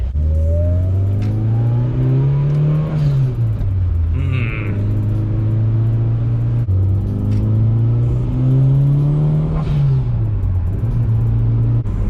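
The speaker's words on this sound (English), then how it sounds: "It has an interesting blow-off valve sound to it." A single-turbo Ford F-150 pickup engine revs up and drops twice, each rise ending in a brief hissing blow-off valve whoosh as the revs fall, loud and close.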